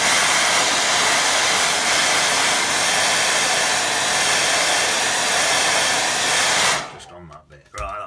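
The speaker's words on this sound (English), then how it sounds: "If I could not use my air dryer, it would be ideal, because then you're not have to listen to it." A hair dryer blows loudly and steadily for several seconds while watercolour paint dries, a constant close rushing hiss that then switches off, leaving faint handling noises.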